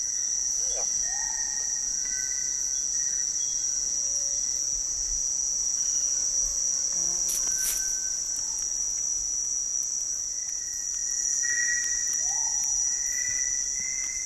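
Dense, steady chorus of night insects such as crickets and katydids in the Amazon jungle after dark, a continuous high shrill drone with a few scattered chirps and faint calls on top, no voices.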